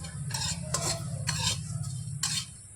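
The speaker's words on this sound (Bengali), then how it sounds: "এবার নাড়াচাড়া করে মশলাটা ভেজে নেব।" Whole cumin, coriander and fennel seeds sizzle in hot oil in a pan while a utensil stirs them, giving several scraping strokes over a continuous frying hiss.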